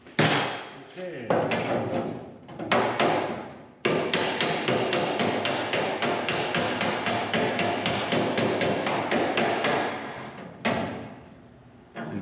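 A hammer and dolly strike sheet metal on the rocker panel of a 1964 Chevelle Malibu SS. A long run of rapid, sharp, ringing taps is loud and close, with a few pauses between bursts.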